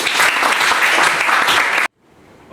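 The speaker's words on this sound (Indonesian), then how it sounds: "Oke, tepuk tangan untuk kelompok" Applause from a classroom full of students for a group of presenters, a steady, loud wash of many hands clapping that cuts off abruptly near the end, leaving faint room noise.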